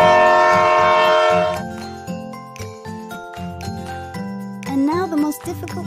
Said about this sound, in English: I agree, it's a train.